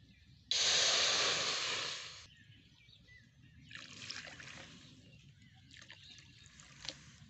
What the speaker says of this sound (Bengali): এইবারে এই বাটি মেপে আমি 3 বাটি জল দিয়ে দেবো।